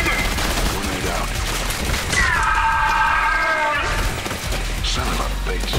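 Grenade explosion during a chaotic firefight in the video game Trepang2, a loud boom buried in dense, continuous gunfire and combat noise, with a rising electronic whine in the middle.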